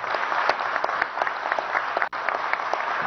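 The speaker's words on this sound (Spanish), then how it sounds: "Un aplauso para Delcy Rodríguez Gómez" Crowd applause at a Venezuelan government event honoring an official, dense and loud sustained clapping from a large audience with no speech, briefly dropping out for an instant near the end.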